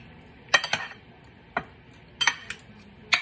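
Spoon scraping and clinking in a pan while stirring garlic powder chicken, several sharp irregular knocks over a soft background hiss.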